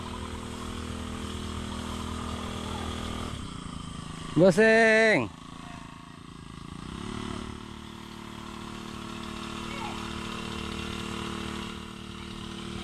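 A motorized sprayer's small engine runs with a steady, buzzing drone, then revs up sharply for a moment before settling back. Voices talk over it throughout.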